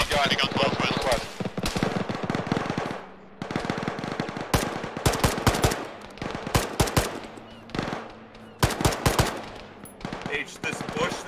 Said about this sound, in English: That's a heavy gun.